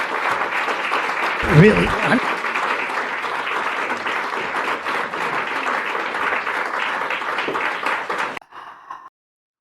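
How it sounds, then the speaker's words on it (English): An audience claps steadily after a public speech, a dense, even patter filling most of the moment before it cuts off, with a voice briefly speaking over it. "Who is clapping?"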